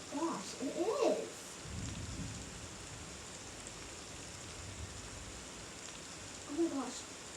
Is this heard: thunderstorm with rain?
yes